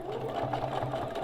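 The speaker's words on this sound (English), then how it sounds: "So I'm just top stitching." A sewing machine top stitches through a thick binding board, its motor whirring in a brief, steady and fairly quiet run with a faint rhythmic needle pulse and no talk.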